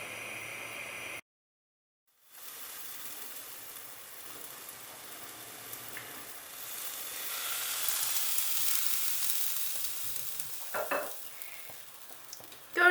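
Banana cake batter cooks in a covered frying pan over the flame with a faint, soft sizzle and hiss. It drops out briefly near the start, then swells slightly toward the end with a few light clinks.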